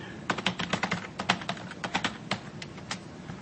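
Someone types a password on a computer keyboard, a short quick run of close, crisp key clicks in an uneven rhythm, with no voice over it.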